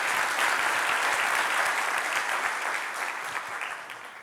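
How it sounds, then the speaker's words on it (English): Audience at a design leadership summit conference applauding warmly, a dense sustained clapping that starts full and gradually fades toward the end. "So let's have a big round of applause for Jared Spool."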